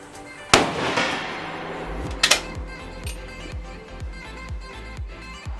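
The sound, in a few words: K31 rifle shots, five cartridges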